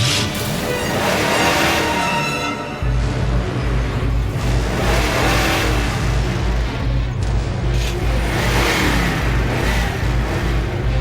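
A car engine starts and revs hard in a loud, sustained roar with a steady low throb, a brief pause before the engine catches, then continuous revving with bursts of dramatic effects.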